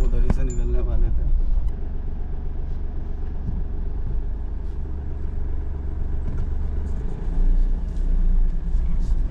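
A safari vehicle on a forest road rumbles loudly and steadily close by, its engine drone filling the whole stretch without pause.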